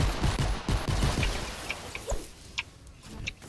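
Gunfire in Fortnite Save the World, a quick burst of rapid shots at the start that thins into scattered single cracks and small impacts, fairly close, with no talk.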